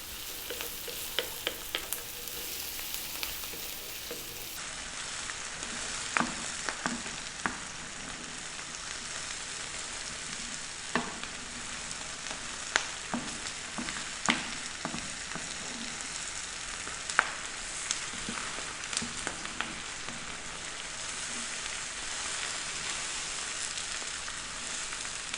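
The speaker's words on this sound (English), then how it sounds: "you can see the onions, the garlic, and the mushrooms are cooking away" Onions, garlic and mushrooms fry on medium heat with a steady crackling sizzle, like light rain, dotted with frequent stirring taps and scrapes over a long stretch, no one speaking.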